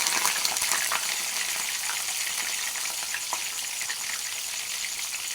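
Whole stuffed bitter gourds frying in hot oil in a pan, a steady close sizzle and crackle with scattered pops, continuous throughout and no talking.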